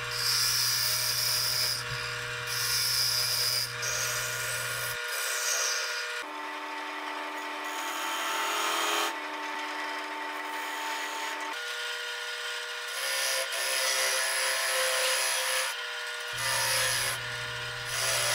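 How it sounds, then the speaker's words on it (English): A chisel cuts a mortise into a spinning China berry natural edge bowl on a wood lathe, giving a steady scraping, rasping hiss with a low motor hum, interrupted in places as the tool shifts. "And here I'm just cutting the mortise,"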